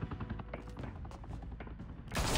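A gunshot in the Batman Telltale Series video game, a burst of dense thumping reports with game sound under it, ending in a loud, broad crack near the close.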